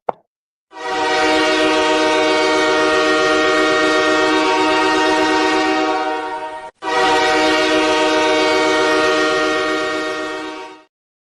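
Train horn sound effect blaring with a rolling train underneath, a loud, steady blast lasting about six seconds, a split-second break, then a second long blast that fades out.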